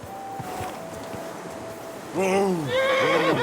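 A horse whinnies loudly in the medieval video game Kingdom Come: Deliverance, with a long wavering neigh rising over muffled hoofbeats and wind after a quieter stretch of ambient noise.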